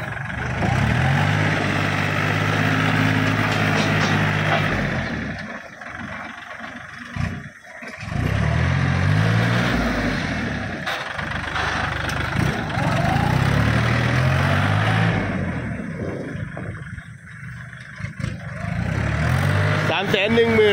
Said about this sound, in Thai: เครื่องดีนะครับเครื่องยังนิ่มๆอยู่เลยนะครับ